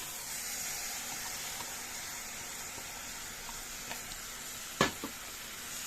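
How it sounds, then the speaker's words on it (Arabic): Rice being stirred in a pan with sautéed onion and liver, a steady soft sizzle and hiss of frying running throughout, with a couple of brief scraping knocks from the spoon near the end. "هنقلبه مع بعض كده اهو، عشان يشرب البصل والكبده كله ياخد طعم واحد"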